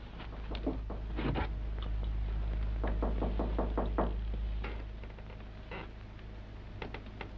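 A series of firm knocks on a door in an old mystery film, sounding in short clustered bursts of raps at close range over a low steady hum, with a few lighter taps trailing off near the end.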